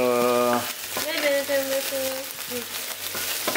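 Food sizzles and grills in a hot pan, a steady crackling hiss running underneath prominent melodic background music.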